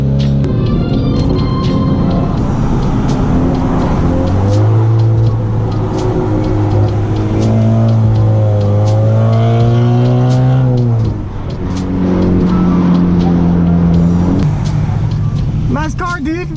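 A car engine revving loudly and up close, with long rising and falling pulls that climb in pitch, settle, then surge again, while people talk nearby.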